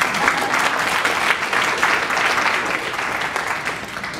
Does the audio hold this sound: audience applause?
yes